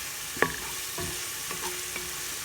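Garlic and onion fry in a pan while a utensil stirs them, giving a soft steady sizzle broken by a few light scraping clicks, close by, with no talking.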